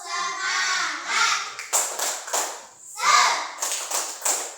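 Indonesian children chant "tepuk semangat" together in rhythm while clapping along in a classroom, a group of young voices with patterned claps, close and lively.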